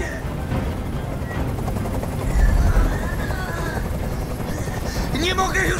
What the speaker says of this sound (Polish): Nie mogę już znieść tego hałasu! Każ swoim odwołać helikopter!